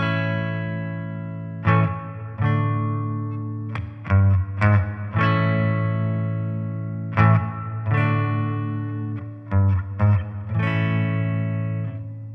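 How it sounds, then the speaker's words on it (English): Electric guitar through the spring reverb of a Fender Champion 40 amp, set around level five: several strummed chords and short phrases ring out with long, shimmering tails decaying between attacks, played alone with no talk. "Here's the spring reverb."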